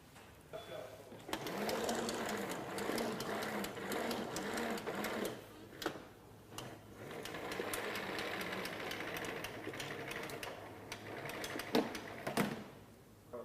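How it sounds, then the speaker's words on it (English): A Pro-X controlled-return air hose reel retracts its hose onto the internal drum, a steady mechanical whirring and rattling that runs for many seconds with a rhythmic clatter, while a voice speaks over it. "Now I'd like to demonstrate the Pro-X controlled hose return function."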